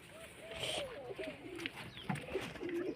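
A white pigeon coos softly in short, repeated throaty phrases, close by, with faint background rustling.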